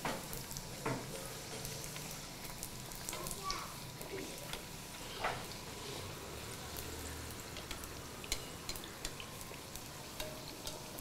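Sajappam frying in hot oil, a steady crackling sizzle with bubbling that runs throughout, with occasional clicks and a low hum underneath.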